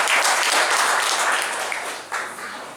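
Applause from an audience at a rural St. Anthony's gathering in Slovenia, with dense, steady clapping throughout that fades slightly near the end.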